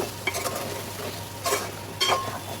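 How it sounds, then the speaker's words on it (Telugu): A spoon stirs cut boiled potato pieces through a hot spice tempering in a pan, giving a low frying sizzle broken by three scraping strokes close by. "ఆలు కట్ చేసి వేసుకున్నప్పుడు ఈ పోపు అంతా దీనికి కలిసే వరకు కలుపుకోవాలండి"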